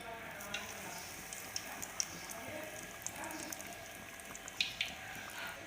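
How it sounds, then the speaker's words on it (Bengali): Egg chops (dimer chop) deep frying in hot oil, a steady soft sizzle with scattered small pops and crackles running throughout at moderate loudness, no talking. "এখন আমাদের তেলটা গরম হয়ে গেছে, এর মধ্যে চপগুলোকে ছেড়ে দেব।"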